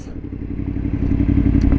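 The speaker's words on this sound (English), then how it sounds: "Some burbles, some pops." A Yamaha FZ10 motorcycle's aftermarket exhaust burbles with a rapid, uneven crackling pulse as the engine revs slightly, close and loud for a brief moment.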